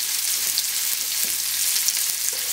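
Langoustines brown in a hot pan with a dense, even sizzle of frying fat, heard up close and alone with no talk.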